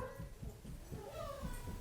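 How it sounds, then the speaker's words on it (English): Excited household dogs whimper and yip faintly in the background, a short run of thin, high whines with soft rhythmic pulses beneath. "Sorry about the dogs."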